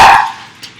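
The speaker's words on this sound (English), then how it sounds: "That was my dog. He didn't like that either." A single loud, close dog bark, sharp and brief, followed by a faint short yip a moment later.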